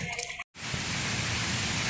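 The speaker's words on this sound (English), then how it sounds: "Just raining." Rain pours steadily during a storm on a fast-moving river, a dense broadband hiss after a brief dropout, with voices talking over part of it.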